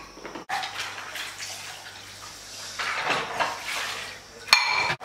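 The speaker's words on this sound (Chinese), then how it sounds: "把这些瓦一洗一下。" Roof tiles being washed with water in a cluttered old cattle shed, with a steady splash and trickle and a few knocks of tile on tile, close and moderately loud, ending in sharp clatters.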